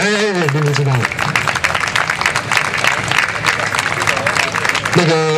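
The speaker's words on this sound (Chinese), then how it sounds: "来鼓掌一下" A large crowd of about ten thousand at an anti-nuclear rally applauds as a film director is called onstage: a dense, steady wash of clapping that fills the middle of the clip, with voices at the start and end.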